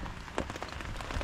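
Rain falling at a beach campsite on a cove in Morong, Bataan, a steady close patter with a few louder drops over a brief stretch.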